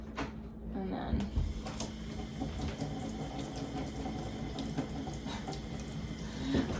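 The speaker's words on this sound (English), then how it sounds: "rinse under the sink and swirl" Water runs from a sink tap while makeup brushes are rinsed and swirled, a steady, fairly soft splashing flow with a few clicks and knocks around it.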